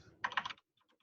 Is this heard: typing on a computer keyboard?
yes